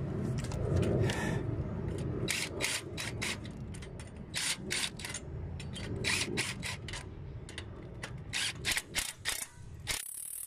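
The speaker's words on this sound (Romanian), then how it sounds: "Pun înapoi piulițele și încerc să strâng cu pistolul cu tubul de 13." A pneumatic impact wrench with a 13 mm socket tightens nuts on a greenhouse frame, giving repeated short rattling bursts in an uneven rhythm, loud and close, separated by brief pauses.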